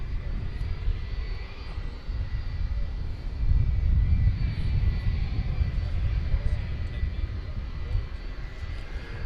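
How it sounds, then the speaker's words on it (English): UPS Boeing 757 cargo plane at DFW Airport at night, a broad low engine rumble that swells louder midway and holds as a steady roar, with faint radio chatter and a voice now and then over it. "I hear a UPS plane."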